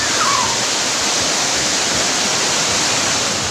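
Rushing floodwater pours through a temple complex in Chiplun, Maharashtra, as a loud, constant roar that never lets up.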